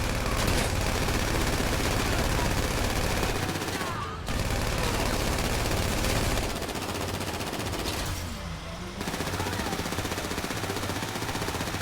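Sustained, loud automatic gunfire in GTA V: dense bursts of shooting run almost continuously, with brief pauses near the four- and eight-second marks.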